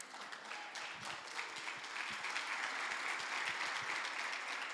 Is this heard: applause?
yes